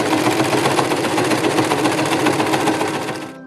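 Overlocker sewing machine stitching a test piece of fabric, a fast steady mechanical whirr running loud and close before stopping abruptly at the end.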